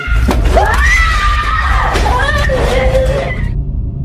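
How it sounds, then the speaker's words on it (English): A child screaming somewhere inside a house, loud, rising and wavering shrieks held over most of the clip with a harsh, strained edge, then cutting off near the end. "Out of nowhere, the sound of a screaming child is heard from somewhere inside the house."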